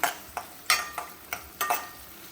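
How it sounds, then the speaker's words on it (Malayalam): Onions being sautéed in a pan for a wedding-style sambar: about seven rhythmic stirring scrapes and clinks against the pan, close and moderately loud, over a faint sizzle, with no talking. "സവോള നന്നായിട്ട് വഴറ്റി വരണം"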